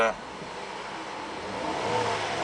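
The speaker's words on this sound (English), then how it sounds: "I'm going to rev the engine" A 3.6 liter V6 engine in a 2007 GMC Arcadia SLT revs up briefly, its roar climbing and swelling over about two seconds with a faint voice underneath.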